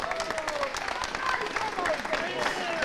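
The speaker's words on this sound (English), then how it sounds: "Give them a big round of applause." Sustained applause from a crowd at a junior hurling championship final, dense and steady clapping with a few voices and whistles mixed in, fairly close and loud throughout.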